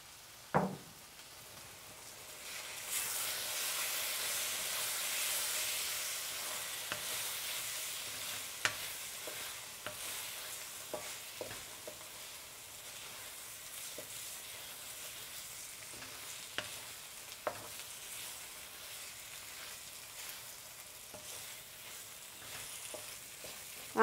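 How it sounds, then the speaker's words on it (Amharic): Meat sizzling in a pan for Ethiopian tibs while being stirred, a steady close frying hiss broken by scattered clicks and scrapes of the stirring utensil, with no talking. "አሁን ስጋውን እጨምራለሁ አብረን ጥብስ እናረጋዋለን።"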